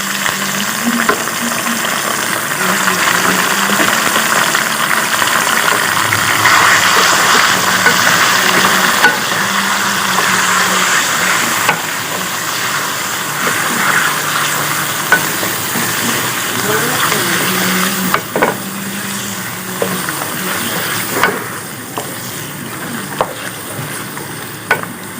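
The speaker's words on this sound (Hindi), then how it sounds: "अब हम इसमें चिकन डालेंगे।" Chicken frying in a karahi for Peshawari charsi karahi, loud continuous sizzle with scraping and clanking as it is stirred, close up, with someone speaking at times over it.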